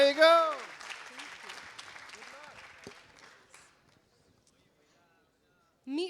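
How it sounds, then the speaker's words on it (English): An audience applauds a presenter at a tech camp event, a burst of clapping mixed with cheering voices that fades out over several seconds, followed by near silence and a brief voice at the end. "All right, guys, a big applause for Speedolo."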